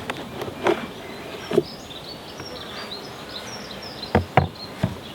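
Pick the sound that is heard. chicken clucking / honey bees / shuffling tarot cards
honey bees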